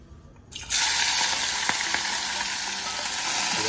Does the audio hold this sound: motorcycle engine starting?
no